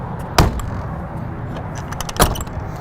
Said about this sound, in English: I need to close this door before we...